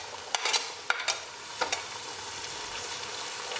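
Chili and three tomatoes drop into onion and garlic frying until golden brown, giving a soft sizzle with a few brief scrapes and clatters of stirring, fairly quiet and close.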